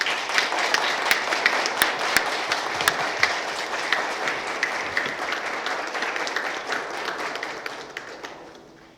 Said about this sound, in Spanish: les pido un aplauso para todos ellos.